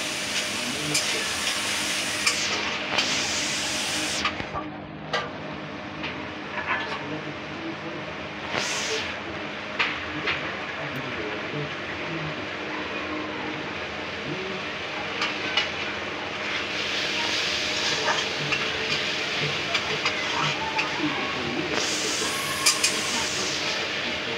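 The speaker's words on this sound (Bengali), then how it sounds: "আমি আলুটার সাথে একটু কষে মশলাটাকে পাকিয়ে নেব" Spice paste frying with potatoes in a pan for Bengali fish curry, a continuous low sizzle with occasional stirring scrapes and sharper hissing bursts.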